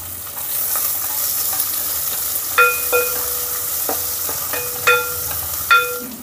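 Chopped onions frying in a pan with garlic cloves, lentils, mustard seeds and cumin, a steady close sizzle with occasional metallic scrapes and clinks of a spoon stirring.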